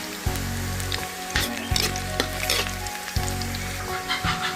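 Dumplings frying with shallots in a hot pan, a loud steady sizzle with bursts of crackle as the contents are stirred and scraped, close up with no talk.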